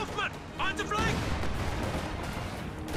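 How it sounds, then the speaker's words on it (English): Katyusha rocket artillery barrage in a World War II strategy game, a dense rumbling roll of launches and impacts that stays loud and sustained across the whole stretch, with a voice speaking over the start. "Katyusha firing."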